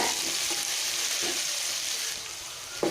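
Ginger garlic paste fries in hot oil with a dense, continuous close sizzle, loud and steady, with a couple of soft stirring knocks.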